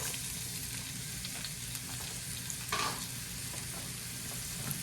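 Vegetables hit a hot pan beside pork chops and sizzle steadily, a constant close frying hiss with a brief flare of stirring partway through.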